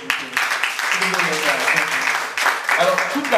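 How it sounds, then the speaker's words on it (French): Audience applause at a live spoken event, a steady patter of clapping mixed with crowd voices and chatter throughout, fairly loud and close. "Applaudissements encore."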